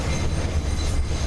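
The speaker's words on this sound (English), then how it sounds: "Just missed Tram 56 coming into Shoehill." A tram pulls into a tram stop with a loud, steady, low rumble of wheels on rails and faint squealing, and no voices.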